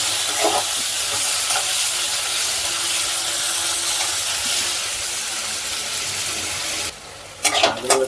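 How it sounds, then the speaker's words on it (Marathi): Onions sizzling in hot tempering oil for a Goan-style tender coconut prawn curry, a loud steady frying hiss close by that drops off near the end, followed by a few stirring scrapes. "कांद्याला चांगलं परतून घ्यायचं, त्याचा गुलाबीसर रंग येईपर्यंत।"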